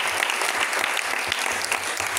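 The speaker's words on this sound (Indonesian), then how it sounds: "tepuk tangan dulu untuk Tuhan" A church congregation in an Indonesian-language service claps for God, dense sustained applause at moderate level with no talking over it.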